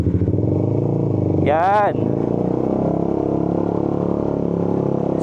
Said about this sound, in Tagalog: So tataas pa natin ito na konti, tapos sasabay ako ng throttle.